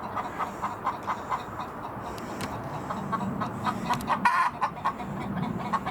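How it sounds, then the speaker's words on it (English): Backyard chickens cluck in repeated short bursts, fairly close, with a louder squawk near the end, and no talk over them. "My brother's chickens, they never shut up."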